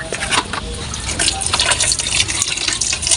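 Hot water pours in a steady, continuous gushing splash for about three seconds, used to rinse fishy slime off while rigging a trap; no one speaks over it.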